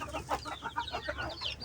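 Baby chickens in a poultry coop peeping and clucking in quick, continuous chirps close by, with no talk.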